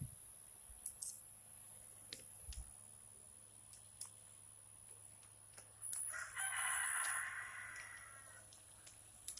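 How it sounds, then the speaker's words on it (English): A neighbor's rooster crows once in the distance, a faint, drawn-out call in the second half, over quiet outdoor background with scattered small clicks. "Shut up, rooster."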